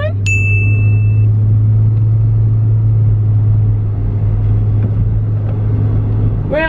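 A car drives along steadily, its loud low road rumble and engine drone continuous throughout, with a brief high ding near the start and a voice briefly heard at the end.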